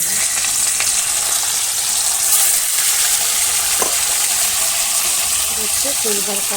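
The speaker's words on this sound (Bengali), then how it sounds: "তেল গরম হয়ে গেছে মাছটা আমি ছেড়ে" Fish sliding into hot oil in a home kitchen pan, giving a steady, close sizzle with light stirring scrapes and a faint voice in the background.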